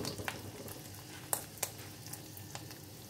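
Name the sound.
fish egg fritters frying in hot oil in a pan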